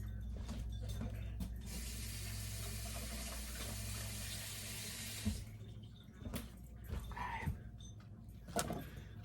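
Green onions rinsed under a running kitchen tap, with a steady hiss of flowing water for several seconds that then stops, followed by quieter handling clatter and a faint voice.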